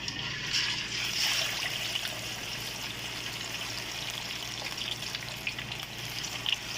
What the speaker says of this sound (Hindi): तेल हमारा कढ़ाई में गर्म हो गया अच्छी तरह। अभी इसमें हम मच्छी फ्राई करेंगे।